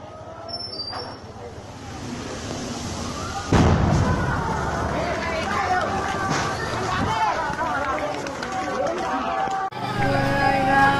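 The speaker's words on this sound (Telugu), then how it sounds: "బా పేలిందే గ్యాస్ అనుకుంటా" A gas cylinder blast in a residential colony in Jubilee Hills, Hyderabad, heard as a sudden loud burst amid crowd noise, with people talking and commotion continuing afterward.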